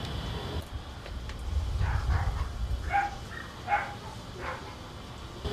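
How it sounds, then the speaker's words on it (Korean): Puppies inside a house give several short, high yips and barks in scattered bursts, heard faintly as if from behind a wall, over a low rumbling background. "강아지들의 소리가 가득했는데요"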